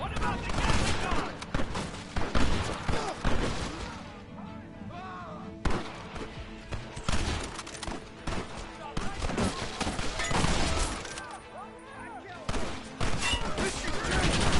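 Gatling gun firing in Red Dead Redemption, long rattling bursts of rapid shots that stop and start again in loud, close volleys, with scattered gunfire, thuds and voices mixed in between.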